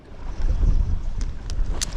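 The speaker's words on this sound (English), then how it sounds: "It's so windy, my paddle is rolling away." Gusty wind on open water near the surf buffets the microphone from a fishing kayak with a low rumbling roar, broken by a few short splashy bursts of water.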